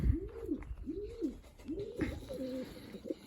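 Racing pigeons coo close by in soft, repeated throaty calls during a pigeon-flying competition, several rolling coos in a row over faint background noise.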